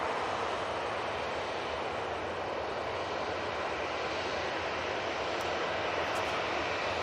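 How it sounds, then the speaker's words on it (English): An ATR 42 turboprop passes over Manchester Airport, a continuous, fairly faint engine drone that stays even throughout with no voices over it. "we've got the other ATR 42 coming over"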